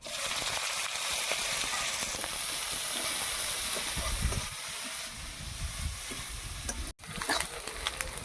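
Chopped onion frying with whole cumin in oil in a wok, a loud continuous close sizzle and hiss with stirring scrapes, briefly cut off near the end and then resuming.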